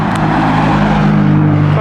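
A McLaren Sport Series 570S cruises past on a London street, its engine a steady, close rumble that blends into continuous traffic noise without a distinct peak.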